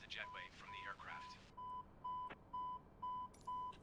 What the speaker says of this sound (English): let's go ahead and get rid of our jetway connections so that we don't have to hear the beeping